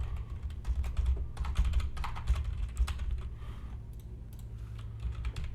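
Typing on a computer keyboard at a desk while logging into a web app, with steady, quick key clicks in irregular bursts over a low background hum.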